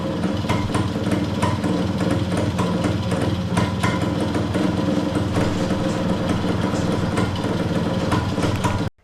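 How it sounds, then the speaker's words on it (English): A Suzuki RV90 motorcycle engine idles steadily with an exhaust leak, a loud, close, uneven chugging with sharp ticking puffs, running continuously until it cuts off abruptly at the end. "Idles. It's gonna need a gasket for that exhaust because it just shoots out of there"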